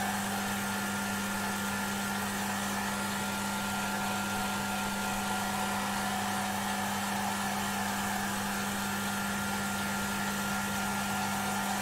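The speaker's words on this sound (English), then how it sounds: "I like using the air dryer." A steady electric air dryer blows continuously on a freshly finished woodturning piece, a constant whirring hum with an even tone, close and alone without talk.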